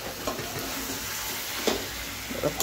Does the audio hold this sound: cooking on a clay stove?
yes